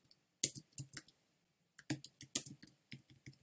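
A computer mouse and keys click in short, quiet, irregular bursts at close range, a dry tapping rhythm with brief pauses and no talking.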